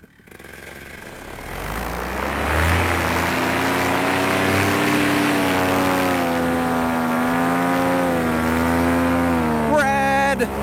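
A paramotor engine landing nearby, a steady buzzing propeller drone that rises in loudness and holds with a shifting whine, with wind rumble underneath and a brief clatter at the end.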